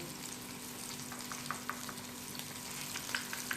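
Mutton chops shallow frying in oil over low heat make a soft, steady sizzle with a few faint crackles and pops, quiet and close.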